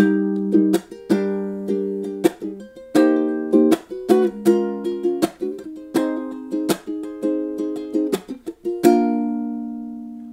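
Bright plucked ukulele chords strummed repeatedly in a steady rhythm, each strum ringing briefly before the next, with no voices.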